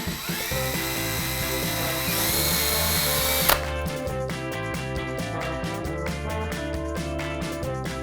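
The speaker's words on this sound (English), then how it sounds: "I can come in with a perpendicular pilot hole from the top side so that when I screw in from the bottom, I know it's straight." A power drill bores perpendicular pilot holes through EVA foam for a Final Fantasy VII Cloud pauldron prop: a loud, steady whirring run that steps down in pitch midway, then continues as rapid chattering pulses as the bit cuts through.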